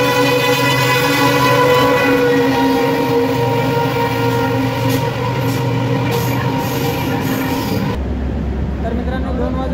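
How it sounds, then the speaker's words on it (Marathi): A passenger DEMU train pulls out of Kurduwadi junction in heavy rain with a loud, steady rumble and droning engine tones. A horn sounds briefly near the end, and a voice talks over the noise. "2:02 कुर्डवाडी जंक्शनवरून आपली ट्रेन निघालेली आहे"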